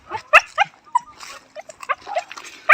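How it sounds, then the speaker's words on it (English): A dog trailing someone along a quiet residential road gives a run of short, close yips and whimpering barks in quick irregular bursts, with a louder yelp near the start and another at the end. "the doggy after me"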